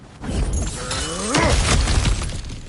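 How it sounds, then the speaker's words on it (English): An obstacle smashed apart in the video game God of War Ragnarok, a loud crashing break with scattering debris and a low groaning creak, the noise sustained across the moment. "back to smashing through things for fun and profit"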